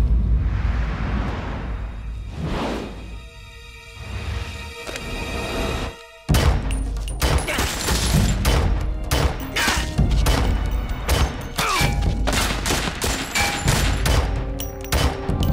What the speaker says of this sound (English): This is the second time that there's so many gunshots here in this area.